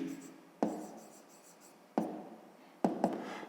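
Pen or chalk strokes tap and scratch in three short bursts during a fifth-grade maths lesson, close and fairly quiet, with a voice speaking between them.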